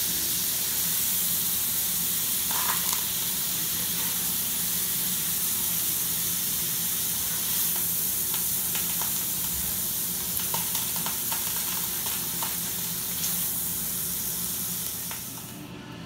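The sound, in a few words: sausage browning in a pot for Cajun red beans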